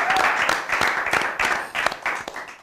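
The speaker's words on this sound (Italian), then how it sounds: "Facciamo un applauso." A small group claps and applauds, sharp irregular handclaps close by, lively and uneven throughout.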